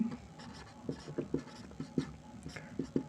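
Pen or chalk writing out a math solution, a series of soft scratchy strokes and taps at an uneven pace, close and fairly quiet, with faint murmuring in the background.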